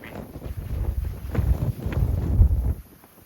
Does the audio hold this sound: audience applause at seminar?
no